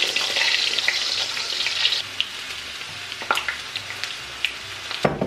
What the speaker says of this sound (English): I'm gonna add a corn tortilla to the pan that has the oil in it and fry this up.